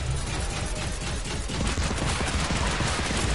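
A minigun in a video game fires in one sustained, rattling burst, with rapid overlapping shots forming a thick, continuous roar from start to finish.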